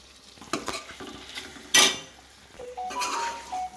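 Curry leaf chicken with ground masala stirred and frying in oil, several scraping strokes and a sharp clink of the utensil against the pan over a steady sizzle, close by with no talking.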